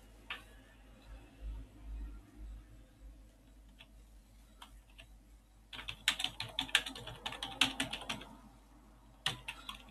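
Someone types on a computer keyboard, with sparse, quiet key clicks at first that turn into a denser burst of rapid tapping in the second half. Faint background hum sits underneath.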